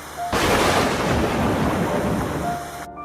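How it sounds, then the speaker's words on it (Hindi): A broad, rushing roar of thunder swells suddenly and holds for a few seconds before cutting off, loud and close. "आसमान में काले बादल छाए थे, बिजली गरज रही थी।"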